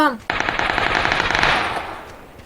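Rapid automatic gunfire rattles in a snowy battle royale video game, a sustained burst of fast, loud shots that fades toward the end, with a brief voice at the start.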